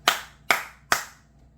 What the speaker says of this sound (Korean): 이 박수 소리를 듣는 거예요.